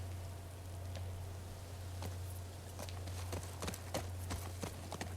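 Horse hooves from a video game clip-clop at a steady walking pace, with sharp irregular hoof strikes growing denser toward the end over a constant low hum.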